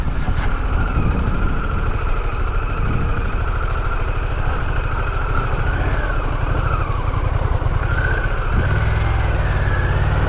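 A Harley-Davidson Pan America motorcycle riding off-road, its engine droning loudly and steadily with shifting pitch under heavy wind and rumble, close and continuous throughout.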